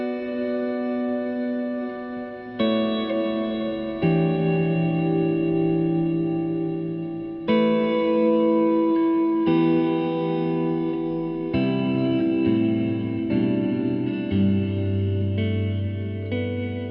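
An EarthQuaker Devices Afterneath reverb pedal turns played notes into loud, sustained washes of ringing tone. The chords shift every couple of seconds, and each change blooms into a dense, echoing tail.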